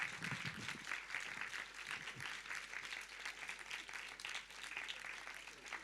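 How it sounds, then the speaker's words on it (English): Audience applause at a conference session welcoming Spain's second Deputy Prime Minister and Minister of Labour, a dense wash of many clapping hands heard at a distance and fairly faint, with a little low voice murmur at the start. "Big round of applause."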